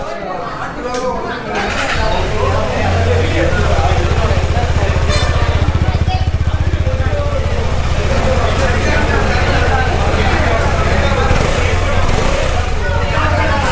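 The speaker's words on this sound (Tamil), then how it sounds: "இப்போ வந்து இன்ஜினோட எக்ஸாஸ்ட் நோட் வந்து பார்க்கலாம்." A 2021 KTM Duke 125 BS6 motorcycle starts up and settles into a loud, steady, close-up idle, its exhaust note a constant low drone.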